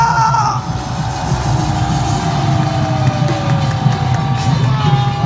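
A large outdoor rally crowd at Gwanghwamun square cheers and claps to welcome a speaker, a broad, sustained roar of voices and whoops that holds steady at fairly close range.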